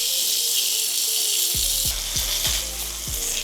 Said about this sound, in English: then we sear these for a minute on each side